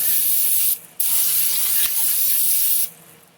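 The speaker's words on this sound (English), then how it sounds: "Good brake cleaner. Just rinse it down." Brake cleaner sprayed in a loud, steady aerosol hiss to rinse down a part of an outboard motor, one long burst with a brief pause near the start, then cutting off before the end.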